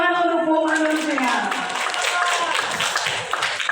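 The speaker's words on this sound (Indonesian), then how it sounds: "sekali lagi beri apresiasi tepuk tangan untuk Bu Muanun ya" Audience applause for a presenter at an education good-practice sharing event, a burst of clapping rising after a brief voice and continuing steadily indoors.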